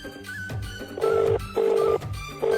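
A phone rings in repeated tones, each lasting about a third of a second with short gaps between them, while a call goes unanswered. Faint background noise sits underneath, and no one speaks.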